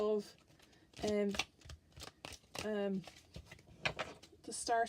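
Tarot cards are shuffled in quick papery riffles while a person talks over them at close range.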